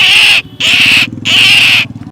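A man imitates an owl call with his mouth, giving three long, shrill, close calls separated by brief gaps, with a low buzzing pulse beneath.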